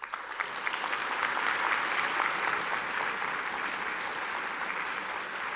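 A physics congress audience gives a sustained standing ovation after a plenary talk, a broad, even wash of many hands clapping at moderate volume with no one speaking.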